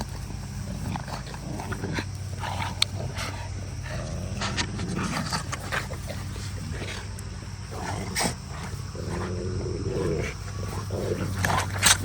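Several large, strong dogs grow rowdy during a workout, giving a dense, continuous mix of panting, scuffling, thumps and excited animal noise close by, with no clear speech on top.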